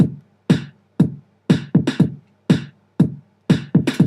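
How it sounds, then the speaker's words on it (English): Closed hi-hat pattern programmed in Logic 9 for a simple house beat: crisp, evenly spaced electronic drum hits about every half second with a few quick doubled strikes, each with a firm low thump and a short decay. "There's a closed hi-hat."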